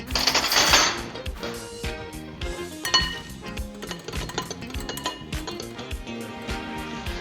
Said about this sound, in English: So we're going to put that in there, then mix it using a spoon.